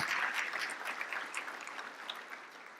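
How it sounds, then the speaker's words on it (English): Audience applause at the 2019 Urban League of the Central Carolinas Whitney M. Young Gala keynote, a steady broadband patter of many hands that holds fairly even and eases slightly toward the end, with no talk over it. "Please give yourselves a round of applause."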